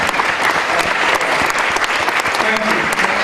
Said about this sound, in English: could you give yourself a round of applause?